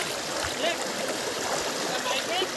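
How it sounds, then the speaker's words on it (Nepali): The Sangsa river in Nagaland rushes steadily nearby, a broad continuous wash of flowing water with faint voices underneath. "यो हो साङ्सा नदी"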